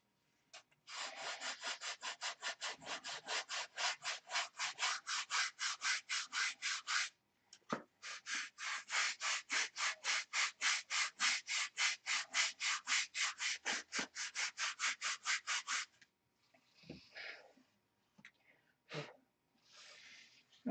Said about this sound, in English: The block doesn't want to sand right, so we'll have to take some extra care to get that transition right.